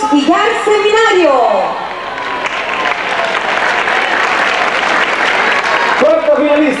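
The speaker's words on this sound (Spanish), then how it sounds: "Un aplauso para ella." Audience applause for a finalist at a 1998 beauty pageant in Piura, a broad wash of crowd clapping that follows a man's announcement and continues steadily until his voice returns over the noise.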